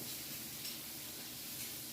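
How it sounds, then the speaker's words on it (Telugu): Green chillies sizzling in oil for tomato roti pachadi, a faint, steady frying hiss throughout the short stretch with no talk. "పచ్చిమిరపకాయలు అయితే మంచిగా ఆయిల్లో అయితే వేగుతున్నాయండి"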